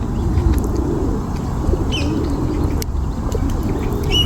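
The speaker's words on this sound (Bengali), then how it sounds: "এই যে এখন কবুতরগুলো সব ওর কাছাকাছি আসলে" Pigeons in a London park coo and flap their wings close by, a dense low fluttering rumble with soft cooing and a few chirps, loud and without talk.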